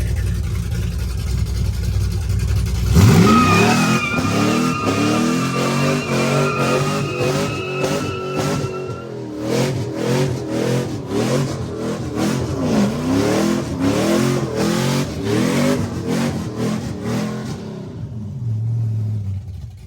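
A Ford Sierra with a posi rear differential and rear disc brakes, traction control switched off, idles and then bursts into loud, close revving and hard acceleration, the engine note rising and falling repeatedly in rapid surges before settling back.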